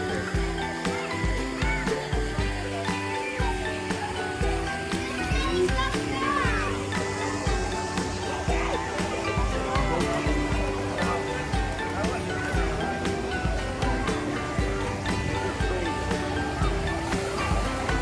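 Outdoor water park at the foot of three water slides, with a constant wash of splashing water and distant crowd noise, children shouting and playing throughout.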